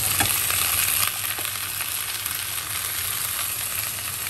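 Onion, tomatoes and carrots fry in a pan with a steady, close sizzling hiss that drops slightly after the first second and continues evenly, with no talk.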